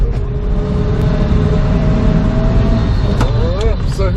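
A 1965 Chevy C10 pickup's engine rumbles loud and close from inside the cab while driving on a first drive after sitting, a steady low drone with a brief rising rev near the end and a few clicks.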